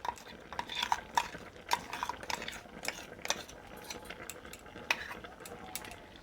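Spice paste of poppy seed and ginger sizzles faintly in a pan while a utensil stirs it, giving quiet scattered clinks and scrapes over a low crackle.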